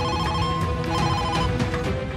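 A telephone rings continuously on an outgoing call, a loud, steady repeating electronic ring pattern with no talking over it.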